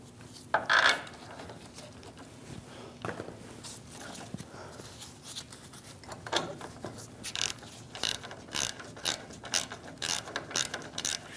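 Ratchet snugging down the front caliper bolts on a 2001-2006 Chevrolet Silverado during a wheel bearing and hub replacement, faint at first and then a run of quick, close clicking strokes.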